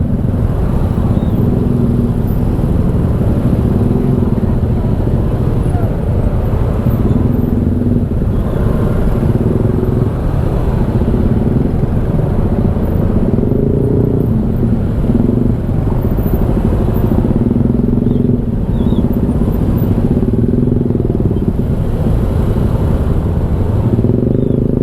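Dense Jakarta street traffic near Tomang, a steady roar of motorcycles and cars rolling past at close range, engines droning and revving continuously with occasional clatter, no speech.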